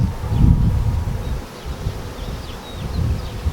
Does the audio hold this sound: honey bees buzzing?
yes